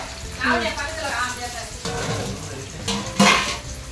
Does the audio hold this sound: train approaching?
no